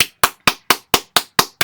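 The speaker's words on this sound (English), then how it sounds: "Let's clap it up." A group claps after a children's read-aloud of the picture book Goggles by Ezra Jack Keats, eight sharp, even hand claps in quick, steady rhythm, close and loud, with no talk.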